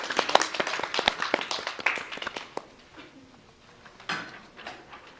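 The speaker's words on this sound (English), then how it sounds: "let's give him a round of applause" An audience applauds Commander Kenyon, a burst of scattered nearby clapping that thins and fades out within a few seconds, with a few last claps.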